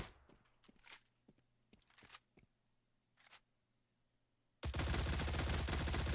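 A suppressed gun in a video game fires in short separate bursts, a few quick reports spread over several seconds, before a loud, dense wash of noise takes over at the end.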